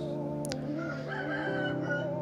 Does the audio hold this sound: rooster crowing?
yes